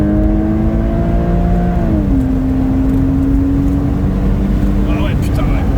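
Porsche Boxster S pulls away from a standstill in second gear, its engine note rising steadily, dropping at a shift and climbing again, heard from inside the car under continuous loud road and wind noise.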